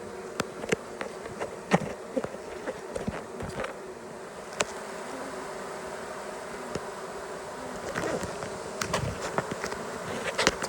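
Honey bees buzz steadily around frames of honey and bee bread lifted from a trap-out hive, a dense continuous hum with individual bees zipping close past in sharp passes, no voices.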